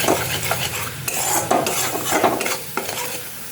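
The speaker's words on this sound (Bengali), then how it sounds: "এটা অল্প একটুখানি কষাবো" Spices are stirred and sautéed in hot oil in a pan for a vegetarian potato curry, with Kashmiri chilli powder in the oil; a spoon scrapes and clinks steadily against the pan over a continuous close sizzle, with no talking.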